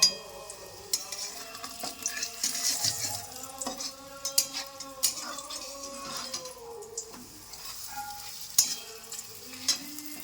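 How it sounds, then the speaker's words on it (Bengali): Aloo paratha fries in hot oil in a pan, a close, busy sizzle with scraping and stirring clinks of utensil against the pan, sharp metallic taps now and then, and no talk over it. "তেল অলরেডি গরম হয়ে গেছে, এবার আমি পরোটাটা দিয়ে দিলাম।"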